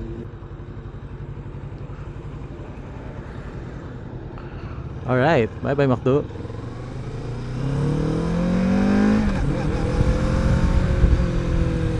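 A Kawasaki Z650RS motorcycle heads onto an expressway, its engine running steadily, then building and rising in pitch as it accelerates near the end, with a short spoken goodbye partway through.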